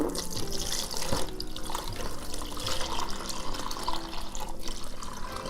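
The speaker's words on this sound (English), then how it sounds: "we're just gonna pour the water in there." Steady rushing water pours continuously into a cooler, splashing into it for several seconds, with no voices.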